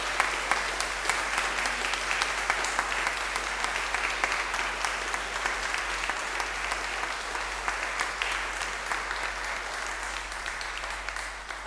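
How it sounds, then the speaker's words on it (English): Audience applause for the singers at a Christmas concert, dense continuous clapping from a full room lasting over ten seconds at an even level. "A big round of applause."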